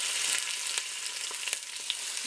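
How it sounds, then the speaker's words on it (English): Skin-side-down chicken pieces sizzle in a hot pot, a dense steady hiss of frying fat with scattered small pops and crackles, close by and with no talking. "You can hear the sizzle."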